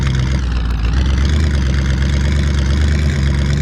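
A vehicle engine in the zombie survival game Survive The Nights runs steadily at a low, rumbling idle, close and loud, with a constant hum that never drops out.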